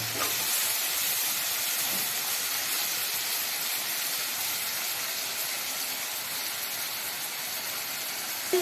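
Pieces of dried sea fish hiss loudly as they fry in spice paste in a wok, a dense, unbroken sizzle that holds steady from start to finish, close and alone.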